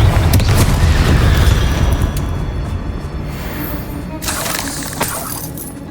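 A Confringo blasting spell detonates in the Hogwarts Legacy video game, a loud booming explosion with a heavy low rumble. It fades over several seconds, and a second crack lands near the end.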